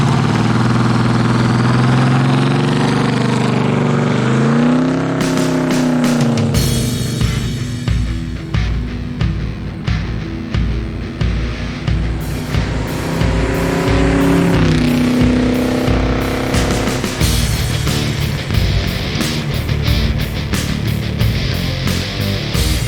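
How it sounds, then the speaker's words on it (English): An orange 1976 AMC Hornet drag racing down the strip at an AMC drag meet roars loudly as its engine revs climb in rising sweeps through the gears, with tire and wind rush continuing as it pulls away. "he went on the track with his orange 1976 Hornet"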